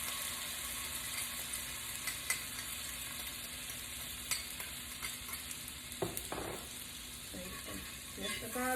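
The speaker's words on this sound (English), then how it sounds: "Mix the garlic in this hot skillet" Garlic sizzling in a very hot skillet for a seafood fettuccine, a steady close frying hiss with scattered crackles and a few utensil scrapes and clicks toward the end.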